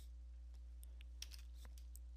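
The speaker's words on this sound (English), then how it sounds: "type the letter A on your keyboard and then hit enter" Keystrokes on a computer keyboard while entering a Windows command, faint and scattered over about two seconds with a steady low hum underneath.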